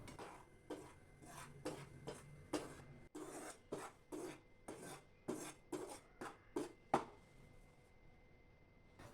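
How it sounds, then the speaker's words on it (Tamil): A spoon scraping and stirring rice flour as it dry-roasts in a pan for thattai, giving about fifteen steady, evenly spaced rasping strokes, close and fairly quiet, with no talking. "இப்போ மாவு 3 நிமிஷம் வறுபட்டுடுச்சு"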